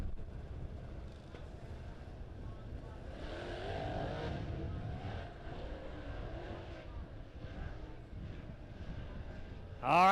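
Dirt track race cars heading toward the start-finish line, a distant continuous engine roar rising and falling, with a loud burst close by at the very end.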